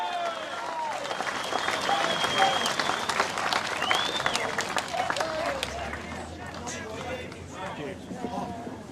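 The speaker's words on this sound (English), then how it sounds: "Thanks for another round of applause for our chief." Crowd applause at an outdoor Emergency Services Volunteer Fund rally in Bendigo, with sustained clapping and cheering from a large gathering and voices calling out over it.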